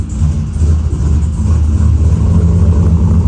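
A car engine idles steadily while warming up, a continuous low rumble with a slight rev, heard close and alone without talk.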